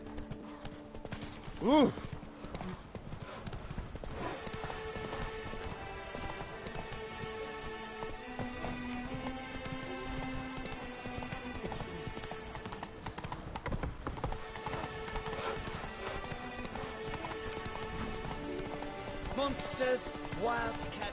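Horse hooves clip-clopping in The Witcher 3 as the mount sets off, a steady close rhythmic patter over background music, with a short voice exclamation near the start.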